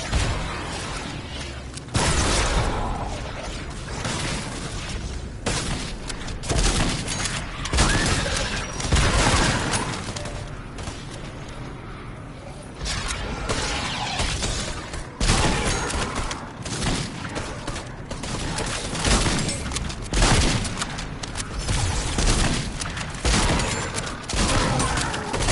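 A shotgun in Fortnite fires again and again in uneven bursts over about twenty-five seconds, each blast a sharp, loud crack breaking through a constant busy game background.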